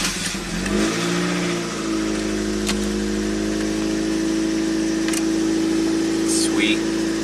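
A 1987 Toyota car engine idles steadily after a cold start, a low continuous hum with a faint rise early on and occasional light clicks over it.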